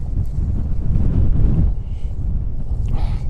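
Strong wind on Dartmoor buffets the microphone in a loud, continuous low roar, with gusts rising and easing throughout.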